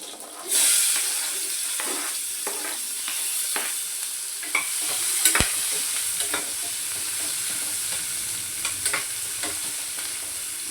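Garlic, then onion, frying in a pan for a cauliflower sabzi, giving a steady close sizzle and hiss, with occasional scraping stirs and a sharp clank near the middle.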